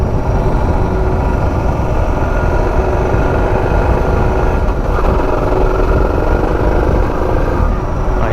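A Suzuki DR650 motorcycle with its stock exhaust is ridden along steadily, the engine drone continuous and loud beneath heavy wind rush, with no change in pace throughout.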